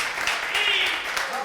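Audience applause at a retro arcade convention presentation, a short dense burst of clapping from a crowd filling the room at steady volume, with speech-like murmur mixed in.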